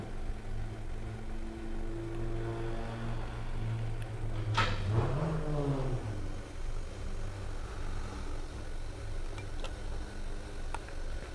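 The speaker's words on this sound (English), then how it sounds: "now he's revving it" An Audi A4 with a bad shake and coolant leak revs once, a rising and falling engine sweep in the middle of the clip over steady idle rumble and faint ticking.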